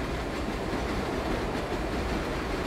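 A subway express train in World of Subways runs steadily with a continuous rumbling roar of wheels on track, loud and close, with no break.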